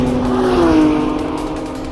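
A Porsche 911 GT3 RS is driven hard, its engine holding a loud, high, rising and falling note, close up, with no talk over it.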